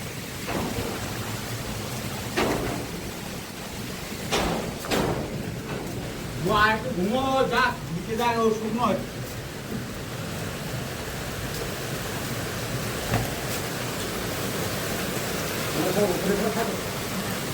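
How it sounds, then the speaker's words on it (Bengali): Heavy rain pours down during a storm, a dense steady roar that fills the whole clip with a few sharper gusts or crackles, while someone speaks over it at intervals. "ভীষণ জোরে বৃষ্টি হচ্ছে, ভীষণ।"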